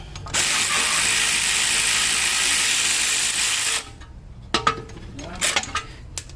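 A 17 mm ratchet spins rapidly in one loud, steady burst on the sway bar link nut of a 1995 Mercedes W140 S500, followed by a few scattered metallic clicks and clinks.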